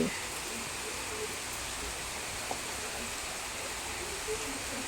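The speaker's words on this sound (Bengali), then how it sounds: "কি বৃষ্টি হচ্ছে দেখো, খুব জোরে বৃষ্টিটা নেমেছে।" Heavy rain pours outside a home kitchen where chicken is being cooked, a steady, even hiss of dense downpour running unbroken throughout, moderately quiet and without voices.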